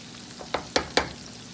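Short ribs deep frying in hot oil give a soft, steady bubbling hiss, with three sharp crackling pops landing in quick succession near the middle, close by and otherwise quiet.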